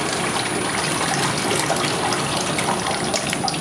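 Water gushes steadily out of the dispensing handles of an OX-850 countertop frozen yogurt machine into a bucket, a close, continuous splashing trickle with no voices.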